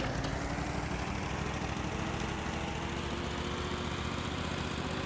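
A tractor engine runs in a farming simulation video game, Farm Expert. The drone is steady and rumbling and holds constant at close range for the whole stretch, with no other sounds.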